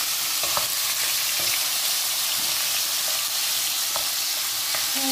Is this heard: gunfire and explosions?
no